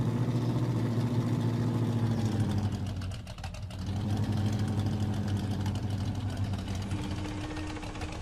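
A car engine driving in the video game Supermarket Simulator, a steady droning hum with a slight dip partway through, held at an even level with no talking.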